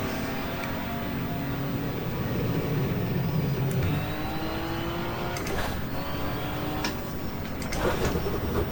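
A BMW race car running on track at Donington during a 1987 endurance race, its engine a steady loud roar with shifting pitch and brief bursts of passing or gear-change noise throughout.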